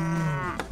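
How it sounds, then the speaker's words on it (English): A cow on a farm lets out a single close, loud low moo with a clear droning tone that fades at the end. "Ooh, a cow."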